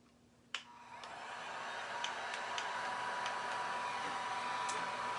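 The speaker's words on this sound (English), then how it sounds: "now we got get our heat gun set up here." A heat gun blows steadily after a sharp click switches it on, a constant airy roar held on a silk screen to burn in the emulsion, with a few faint ticks over the continuous hiss.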